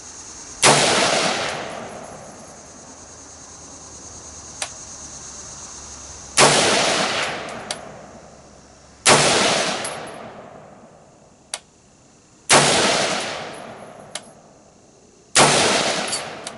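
Gunshots from a shoulder-fired gun with a red dot sight, five sharp loud reports spaced a few seconds apart, each with a decaying echo, plus small clicks between shots.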